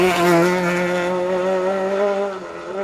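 A 1600 Peugeot 208 rally car howls past on a rally stage, a loud, steady engine note with strong harmonics held for nearly three seconds before dipping slightly as it moves on.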